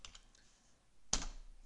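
Quiet computer keyboard typing, a few soft light clicks followed by a sharper, louder keystroke or click near the end, close and isolated with no talk.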